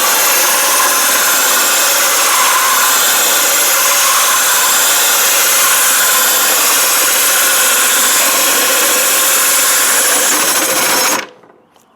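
A diamond hole saw from a Vevor tile cutting kit grinds steadily through tile, a loud continuous whine held for about eleven seconds, then cutting off abruptly as the bit breaks through.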